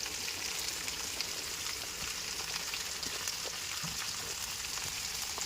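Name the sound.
chopped onions frying in a pan for chicken curry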